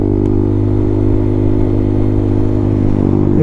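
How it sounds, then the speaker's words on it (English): A Honda Grom motorcycle running off-road on wet ground on road tyres, its mid-pitched engine droning steadily and loud with a close, continuous rumble and faint rattling. "so I thought I'd hop out on the Grom and check it out"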